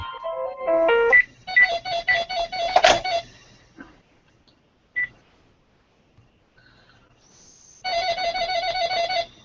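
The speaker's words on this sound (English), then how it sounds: "Phone's making all kinds of cool noises." A phone plays loud electronic ringtone melodies: a rapid falling run of tones, then repeated chirping bursts. A few seconds of near silence with faint blips follow before a steady warbling ring starts again. There is no talking.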